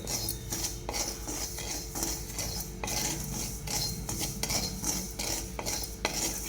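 Barnyard millet (bhagar) dry-roasting in a pan with no oil or ghee, giving a steady scraping and stirring rattle of grains against metal with clinks of a utensil throughout, close and moderately loud, no voices.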